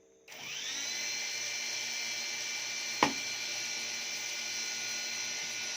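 A small E88 Pro drone motor whirs up and holds a steady high-pitched propeller whine, close by, with a single sharp click midway and no talking.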